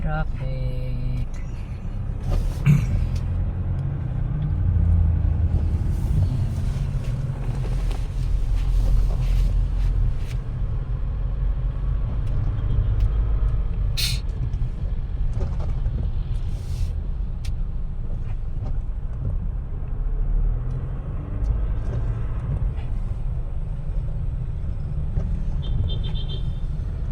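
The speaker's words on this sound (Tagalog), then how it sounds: "Traffic." Steady street traffic with passing cars and buses, a continuous low rumble of engines close by that holds at an even level throughout.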